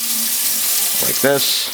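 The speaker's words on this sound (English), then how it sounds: "now I just put some cold water in there" Cold water poured into a vacuum bottle packed with ice, a gurgling, rising pour with a brief bubbling glug, close by, under a short spoken remark.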